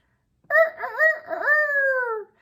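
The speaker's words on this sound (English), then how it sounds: "She's trying to crow, said Kelsey, laughing." A hen lets out a strained, wavering attempt at a rooster's crow, a rising croak that settles into a long drawn-out note, close and fairly loud.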